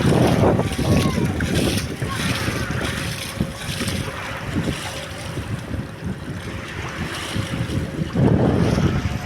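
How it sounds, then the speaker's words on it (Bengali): Fishing trawlers heading out for hilsa on the wide Tetulia river, carried as a steady low engine drone beneath continuous wind buffeting and lapping water, with a faint voice at times. "নদীতে জেলেরা মাছ ধরার জন্য, ইলিশ মাছ ধরার জন্য ট্রলার নিয়ে যাচ্ছে।"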